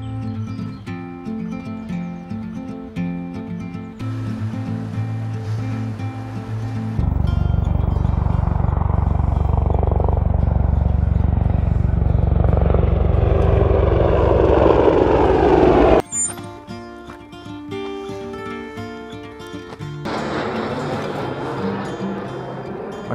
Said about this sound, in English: Okay, a low-flying private jet.